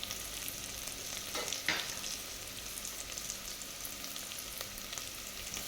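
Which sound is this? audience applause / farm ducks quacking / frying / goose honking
frying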